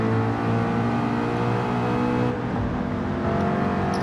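A Honda NSX race car in Gran Turismo 7 drones with a steady, loud, close engine note holding high revs, briefly shifting pitch midway before carrying on.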